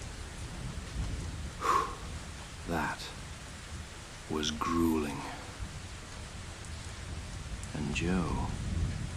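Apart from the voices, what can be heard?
pouring rain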